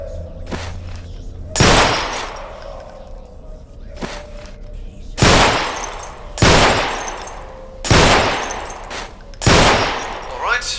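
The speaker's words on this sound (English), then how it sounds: "firing from the hip is not an easy business, especially with a sidearm" A sidearm fired at bottles in the Half-Life 2 mod Underhell, six loud, separate pistol shots spaced a second or two apart, each with a short decaying tail, near and clear.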